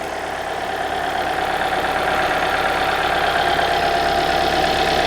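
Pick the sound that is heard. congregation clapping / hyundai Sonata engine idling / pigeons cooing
hyundai Sonata engine idling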